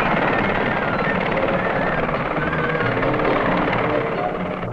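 A Westland Whirlwind helicopter in flight with the RAF in 1960s Aden, its rotor and engine a loud, steady, dense roar that fills the scene without a break.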